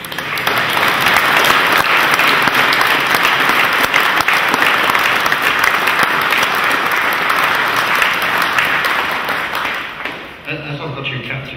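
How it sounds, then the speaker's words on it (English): An audience at a museum celebration marking 75 years of Hurricane flight gives a big, sustained round of applause, dense and loud for about ten seconds before fading as a voice resumes. "now would be a very good time to give a big round of applause"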